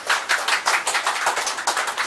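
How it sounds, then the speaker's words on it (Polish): Close, loud clapping after a street performance, fairly rhythmic bursts from a small group of hands, each clap sharp and distinct rather than a blended crowd roar. "poproszę o gromkie brawa"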